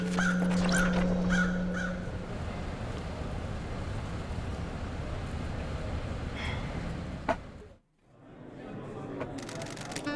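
Crows cawing in the video game Paradise Killer, repeated caws early on over a steady ambient bed with a brief dip to near silence near the end.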